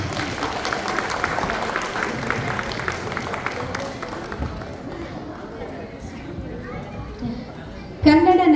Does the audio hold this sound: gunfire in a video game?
no